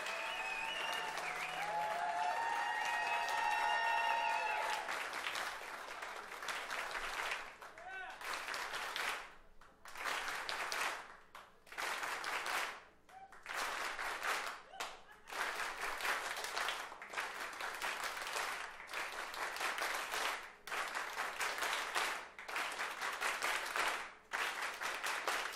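Crowd applause for a band, oud and tabla players, at a live concert: sustained clapping with a brief whistle at the start, then rhythmic clapping that comes in pulsing bursts with short dips between them.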